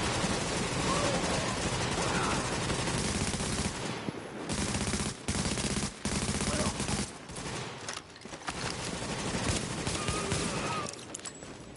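Loud, sustained automatic gunfire from a firefight in The Division video game, continuous dense bursts with a few brief pauses, over the full stretch of combat.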